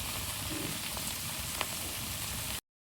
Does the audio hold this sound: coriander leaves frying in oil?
yes